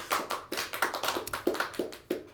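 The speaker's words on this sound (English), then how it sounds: "Give yourselves a round of applause coming out for poetry" Audience applause at a poetry reading, heard as a small, thin scattering of hand claps: light, uneven taps of a few people, close and fairly faint, with no voices over it.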